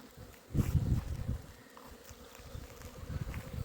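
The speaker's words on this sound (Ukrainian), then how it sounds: "Зате сьогодні всі вулики літають дуже добре." Honey bees flying around beehives on a warm day, a close continuous buzzing hum that swells loudly for a moment as bees pass near, then carries on softer and fluttering.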